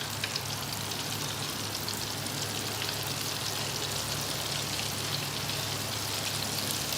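Spicy chicken strips fry in hot oil near 375 degrees, giving a dense, continuous crackling sizzle like steady rain that stays even and close throughout.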